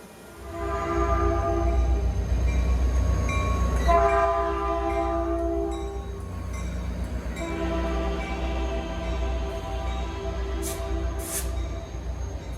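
A Caltrain passenger train runs through Menlo Park station without stopping, sounding a long, loud multi-tone horn blast, then a second shorter horn as the train rumbles steadily past close by.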